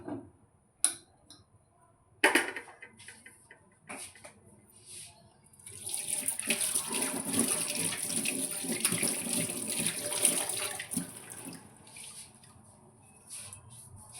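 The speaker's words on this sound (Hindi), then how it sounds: "अभी पानी मैंने बॉईल करने के लिए रखा है, इसको 15 से 20 मिनट बॉईल करूंगी मैं।" A pot of water heating for colocasia leaf rolls, opening with a few clinks and knocks, then a steady rushing, bubbling wash of water that holds for several seconds before easing down, close and without speech.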